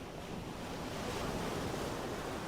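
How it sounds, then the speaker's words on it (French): Storm waves pound against a cliff while wind blows hard, forming a steady, dense roar of surf and gusts with no break. "La tempête mord la falaise."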